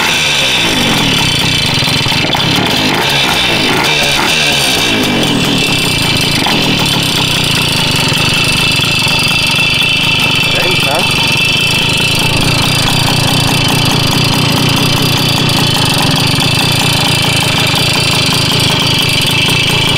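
A Puch Maxi moped fitted with a 65cc Polini kit engine runs loud and close, a continuous buzzing two-stroke drone with rough, rattling texture and slight swells in revs throughout.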